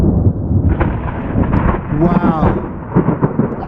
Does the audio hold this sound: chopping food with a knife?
no